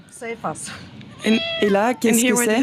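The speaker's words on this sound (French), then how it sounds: "C'est notre chat." A cat meows several times in long, drawn-out cries close by, following a short spoken question.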